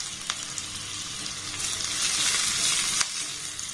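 Dried red chilli and green chilli sizzling and frying in hot oil with garlic, a steady close crackle with a few sharp pops and no talking.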